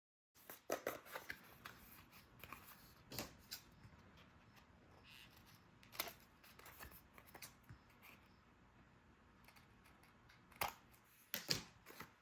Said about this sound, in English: So my first step will be to cut each of these tags out.